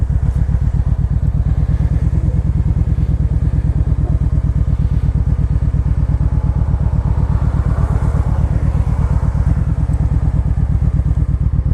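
A 2013 Kawasaki Vaquero touring motorcycle rides along on a warm day, its engine giving a loud, steady throb close up, with rushing wind over it.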